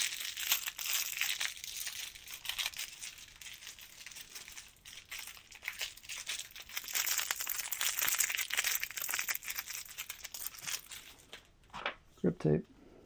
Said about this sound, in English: The crinkly paper.